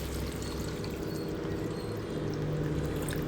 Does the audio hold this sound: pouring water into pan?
yes